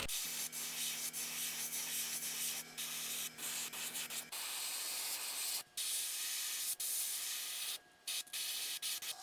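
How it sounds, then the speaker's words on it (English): Airbrush sprays fluorescent orange paint in a thin line along the bottom of a fishing lure, a steady close hiss in short bursts with brief pauses and a low hum in the first half. "we're going to spray a nice thin line along the bottom of the bait"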